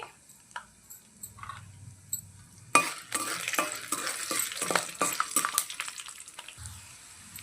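Garlic cloves and dried red chillies sizzle in hot oil for a tempering, quiet at first, then a sudden loud burst of frying crackle with scraping stirs that settles into steady sizzling; no talking.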